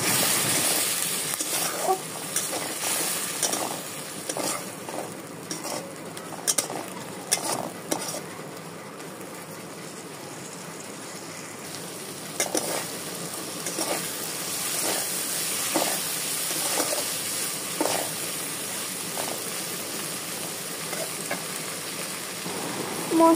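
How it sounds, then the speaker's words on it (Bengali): Spice masala with turmeric, chili powder and water being stirred in a pan, a steady bubbling sizzle with repeated scraping strokes of a spoon, fairly loud and close, with no talking. "এবার জল দিয়ে খুব ভালো মতো নাড়িয়ে নেব"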